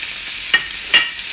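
Tomatoes frying in a pan give a soft steady hiss, broken by two brief sharp scrapes of stirring.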